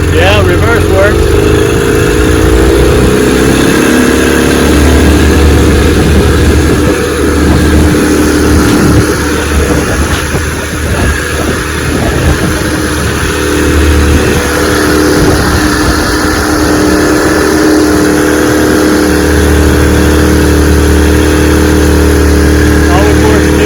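A 1968 Evinrude 18 HP outboard motor runs in reverse, a loud, steady mid-pitched engine drone with a buzzing whine, holding constant for over twenty seconds with a brief dip midway.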